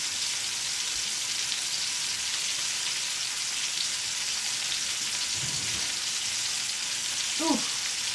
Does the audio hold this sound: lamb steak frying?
yes